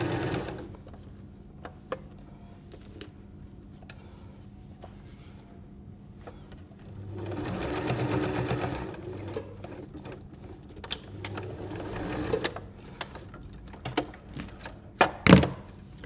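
A sewing machine runs in short bursts as it stitches the seam of a fabric cutlery pouch, its steady mechanical whir rising and stopping with a few thunks and clicks between runs.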